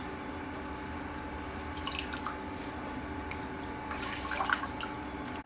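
Ingredients for Chettinad idli upma being rinsed in water, with soft drips and splashes over a steady faint background hiss, a slightly busier burst of sloshing near the end.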